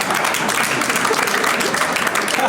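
An audience at a stand-up comedy show in Germany breaks into loud, dense applause that carries on evenly, with no voice heard over it.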